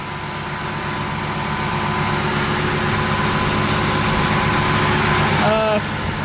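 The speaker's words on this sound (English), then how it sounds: "The idle's still coming down on this thing" A vintage MOPAR engine idles just after start-up, a loud, steady low drone with even harmonic tones that holds throughout, ending with a short rising whine near the close.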